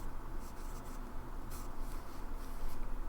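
A broad-nib Lamy Safari fountain pen scratches across paper in short strokes, a close, continuous dry rubbing texture with small pauses between marks.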